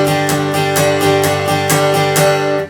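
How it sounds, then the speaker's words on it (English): Acoustic guitar strummed with a locked, stiff wrist, giving a clunky, heavy attack; steady rhythmic chord strums, about three per second, close and loud with no voices. "So if I've got my wrist locked, it's going to sound like this."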